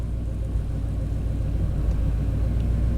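A 1991 Chevy K1500 pickup engine idles down after the throttle is let off, a steady low rumble close by with no distinct revving, no talk.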